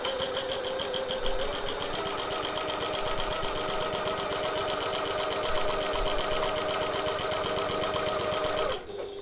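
Domestic sewing machine running a steady quarter-inch seam along the edge of a piped pocket tote bag, a fast even needle rhythm held close and loud for about nine seconds before slowing to a stop.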